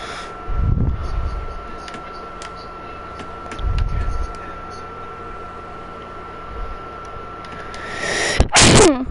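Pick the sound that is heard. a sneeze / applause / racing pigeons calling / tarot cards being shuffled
a sneeze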